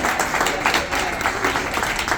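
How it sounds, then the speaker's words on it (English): A crowd applauds graduates at a cannabis training academy anniversary celebration, giving a dense, steady patter of clapping hands throughout. "Can I get another round of applause for our graduates who are going to make it tonight?"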